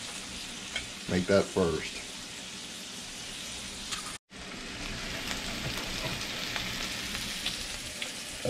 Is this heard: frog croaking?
no